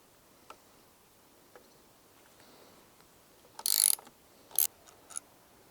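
A ratchet with an 8 mm socket works a bolt on a Honda CRF300L handguard, giving a few faint ticks followed by two loud, close bursts of rapid ratcheting clicks.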